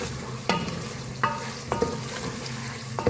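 Chicken stir-fried on high flame in a ridge gourd curry: a steady close sizzle broken by several sharp spoon scrapes and clinks against the pan, with no talking.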